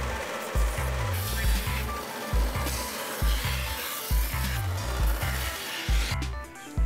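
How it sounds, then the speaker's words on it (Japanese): A grinder shapes the cushioned resin base of a KASHIMAX bicycle saddle, giving a loud, continuous abrasive rasp with regular rhythmic surges as the tool sweeps across the material. "段差をなくし、最終的に仕上がりとなるフォルムをグラインダーで削り出す"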